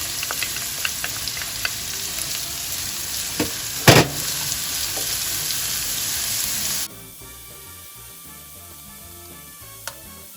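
Red and green peppers fry in a pot with a steady close sizzle and a few sharp clinks from a utensil, the sizzle dropping abruptly to a quieter hiss partway through.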